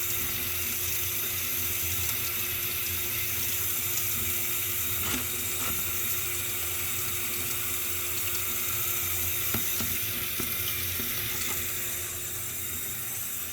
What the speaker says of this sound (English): So we're just going to take this pot, and we are going to wash it.